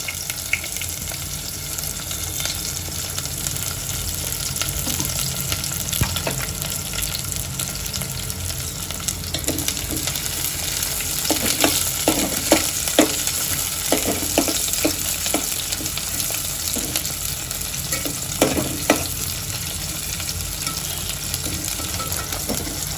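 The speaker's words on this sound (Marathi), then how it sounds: "आता ह्यात मी खडे मसाले घालून घेते आणि कांदा घालून घेते" Whole spices and onion fry in hot oil for a Goan-style prawn pulao, a steady sizzle throughout with occasional sharper crackles and stirring bursts toward the middle, close and fairly loud with no talking.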